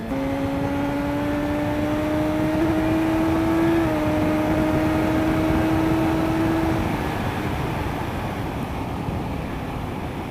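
A BMW S1000XR motorcycle accelerating hard on an open road, its engine note rising steadily in pitch under heavy wind rush, then easing off into a constant roar of wind and road noise.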